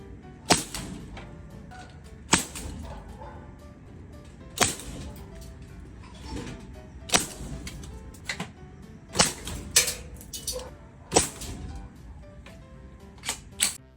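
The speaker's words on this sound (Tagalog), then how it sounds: "Gamit na lang tayo ng nail gun para mas mabilis tayo makapagkabit." A nail gun fires into wood during a weekend DIY build, giving about nine sharp, loud cracks at uneven intervals over a steady low background hum, with no talking.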